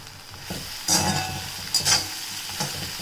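Plantain fry seasoned with sambar powder is stirred in a cast iron kadai, a continuous close sizzle broken by a few scraping spatula strokes.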